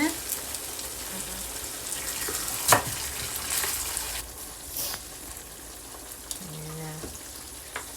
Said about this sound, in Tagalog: Simmer lang natin yan ng mga about 7 minutes or 10.